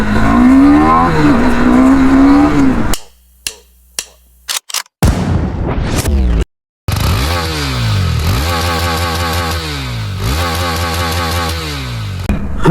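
A superbike doing a tyre burnout, the engine revving hard and loud with repeated rising and falling surges, broken by abrupt cuts and gaps, then sustained screaming revs close by.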